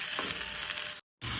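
Chillies, shallots, curry leaves and garlic sizzling steadily in a hot pan for a Kerala colocasia masiyal, a dense continuous frying hiss that cuts out briefly near the end and resumes.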